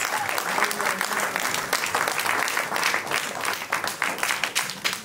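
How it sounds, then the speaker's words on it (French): A church congregation breaks into sustained applause, a dense wash of clapping that holds steady throughout with small swells and no clear talk on top. "Acclamons pour le nom de Jésus-Christ"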